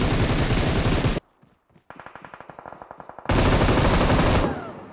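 Gunfire in the mobile battle-royale game PUBG Mobile: loud, dense bursts of automatic fire, a short pause, then a rapid string of distinct individual shots and another heavy sustained burst, close and harsh.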